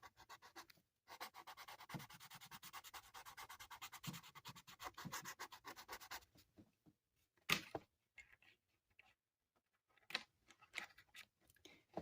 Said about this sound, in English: Don't you just love that sound of a marker going across paper?